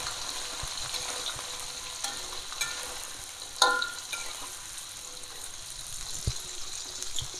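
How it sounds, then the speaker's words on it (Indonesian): Jengkol frying in a pan while being stirred, a steady close sizzle with occasional scraping knocks from the stirring, running alone without talk. "step selanjutnya aku akan goreng jengkolnya ya"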